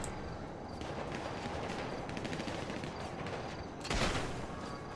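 Turret gunfire in a video game rattles at a distance, a faint continuous fusillade of rapid shots with a slightly louder burst near the end.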